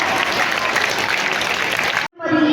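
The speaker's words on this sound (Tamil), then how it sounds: "ஐயாவுக்கு ஒரு மிகப்பெரிய கரகோஷம் கொடுத்துடலாமா?" Big round of audience applause at a Tamil world-record event for 200 Thirukkural verses sung as music, dense and loud for about two seconds, then a sudden cut into a brief musical tone.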